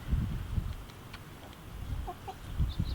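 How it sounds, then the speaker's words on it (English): A few soft chicken clucks and short calls from a chicken house including a Rhode Island Red, close by but quiet, over a low rumbling background. "this is my chicken house"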